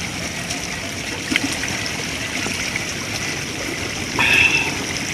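Jungle stream water trickling and gurgling steadily deep in a forest, with a brief louder splash near the end as water is scooped up by hand.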